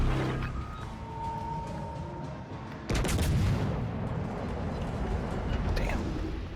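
An enemy warship's guns fire in World of Warships Legends, a sudden heavy salvo boom about halfway through, followed by a sustained rumbling roar over steady background engine noise.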